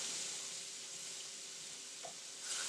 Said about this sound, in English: I want to add enough to really get that going and get those lumps stirred out